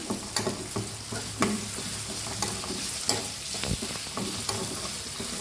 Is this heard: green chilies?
yes